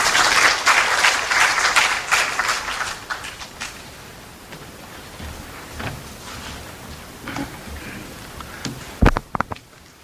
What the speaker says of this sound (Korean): 뜨거운 박수로 모셔주시길 바랍니다.